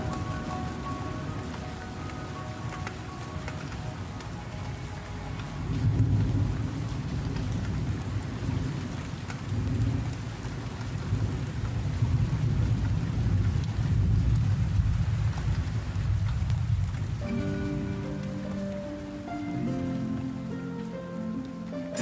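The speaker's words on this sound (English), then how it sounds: "Overhead, the storm finally breaks, and rain douses the fires of Areem." Steady heavy rain pours down as a storm breaks over a burning town, with a low rumble of thunder beneath the downpour and a musical score rising over it near the end.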